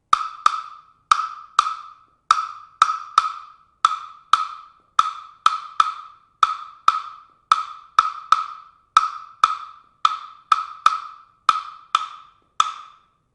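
Congas playing the rumba clave pattern reversed: sharp, dry hand strikes grouped in a repeating syncopated rhythm, close and evenly loud, with no talking.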